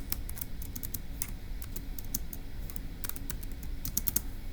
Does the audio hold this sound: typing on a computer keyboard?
yes